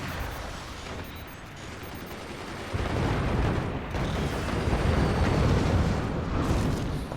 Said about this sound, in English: Another hit from Team 2 swarm missiles.